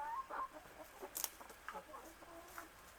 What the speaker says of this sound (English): Now I got chickens coming around.